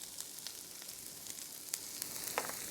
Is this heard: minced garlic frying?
yes